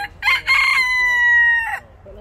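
A rooster crows once in Arroyo Grande, a loud, drawn-out cock-a-doodle-doo with a long sustained final note, close by, ending in quiet.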